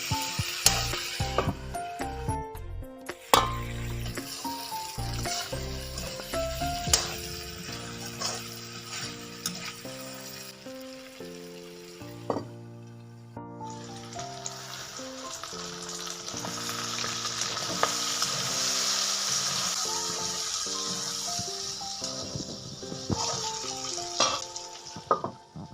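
Duck meat with pumpkin sizzles in a pan as it is stirred, with water just added, giving soft crackling, hissing and occasional scraping knocks beneath a steady melodic music bed.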